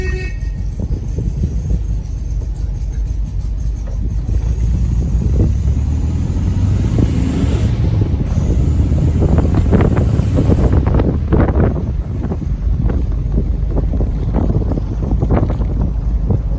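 A 1966 Volkswagen Beetle convertible drives around the block, its air-cooled engine rumbling low and steady under heavy wind buffeting, with no talk.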